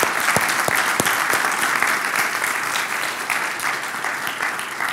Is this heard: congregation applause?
yes